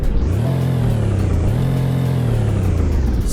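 Engine of a Mercedes SL convertible in a video game revs up close and loud, climbing, briefly easing, then climbing again in one continuous aggressive roar.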